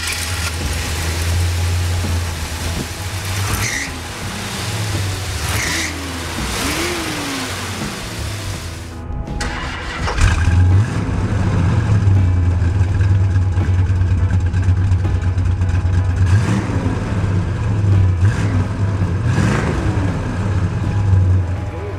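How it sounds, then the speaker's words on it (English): A deep Roadrunner Superbird V8 engine rumbles steadily, cuts out briefly, then returns louder with revs rising and falling over a low idle. "The Roadrunner Superbird was equipped with a 440 V8 engine and a 426 Hemi option."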